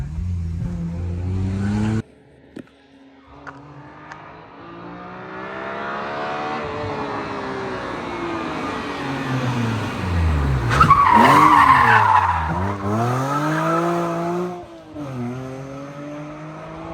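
A BMW M3 E46 drifts and crashes, its engine revving in rising and falling sweeps while the tires squeal and skid loudly. A sharp burst of tire noise cuts through near the end, all close and intense.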